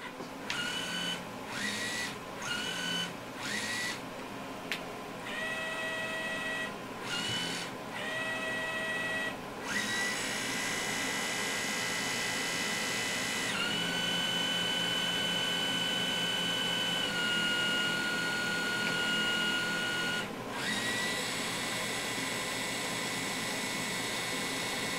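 A QIC tape cartridge spools up inside a computer tape drive with a steady whirring drone, broken by short mechanical stops and clicks early on, then a long continuous whine with shifting tones.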